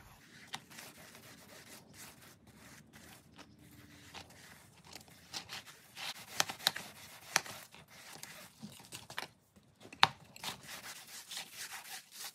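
Dye is worked by hand into the stitch holes of a leather belt. Quiet, close rubbing strokes repeat in an uneven rhythm, with a few sharper scuffs and taps and no talking.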